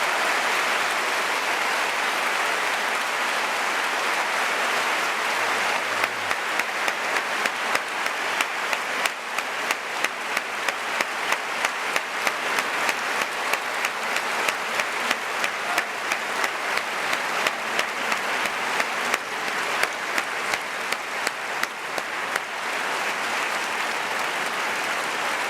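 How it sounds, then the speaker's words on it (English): A debate hall audience applauding three party leaders at the end of a televised election debate on foreign policy, sustained dense clapping from a large crowd that swells into a brisk rhythmic pattern midway before easing. "Let's give a big round of applause for all three party leaders for taking part."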